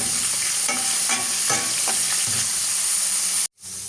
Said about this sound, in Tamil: அதோட வெங்காயம், ரம்பை, கருவேப்பிலை எல்லாம் சேர்த்து பச்சை மிளகாயும் நல்லா வதக்கி கொள்வோம்.